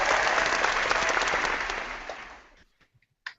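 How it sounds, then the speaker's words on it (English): Room applause breaks out during a podcast recording: a dense burst of clapping that holds briefly, fades out after about two and a half seconds, and ends with a couple of stray claps. "That was our golf clap."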